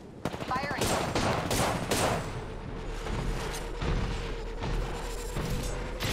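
Rapid bursts of CAR submachine gun fire in Fortnite Season 14, loud and close, in repeated volleys with game effects and a voice talking in the background.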